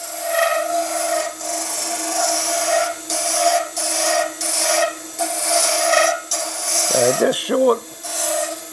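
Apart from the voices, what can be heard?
negative scraping of a resin dragon's egg on a lathe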